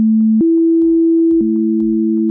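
Two steady electronic tones a perfect fifth apart in a 3:2 ratio, held loud and clean over soft rhythmic percussion taps, with the pitch stepping up and back over a couple of seconds.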